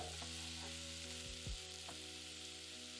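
Thin slices of peeled raw mango sauté in a pan with a faint, even sizzle and a couple of soft stirring scrapes, quiet under a steady background hum.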